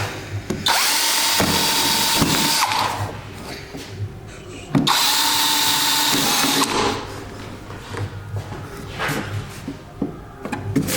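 A power drill bores rivet holes through the hull of a Super Jet watercraft, two long loud whining bursts of drilling separated by short pauses and handling clatter, close and alone without talk.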